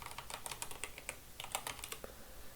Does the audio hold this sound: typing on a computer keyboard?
yes